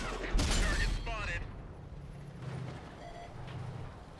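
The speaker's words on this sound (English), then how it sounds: "this is the example of a high explosive shell fired from a KV-2 to a decently armored target" A KV-2 heavy tank firing a high explosive shell at an armored target in a tank battle game, one loud boom and blast near the start followed by a rumbling engine idle that continues underneath.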